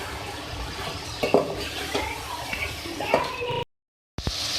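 Beef is stirred with spices, bay leaves, red chili, coriander and turmeric powder in a cooking pot, giving scattered scraping and clinking of a spoon against the metal over a faint background hum.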